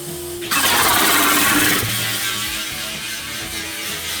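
A Mini Moke engine cranks and catches with a loud burst about half a second in, revs briefly, then drops into a steady, rumbling idle close to the microphone.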